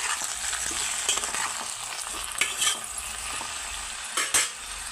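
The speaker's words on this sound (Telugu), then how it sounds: "ఇవన్నీ వేగుతున్నాయి, ఒకసారి కలుపుకుందాం" Onion, tamarind and chutney ingredients frying in a pan, a continuous close sizzle broken by several scraping stirs of a metal spoon against the pan.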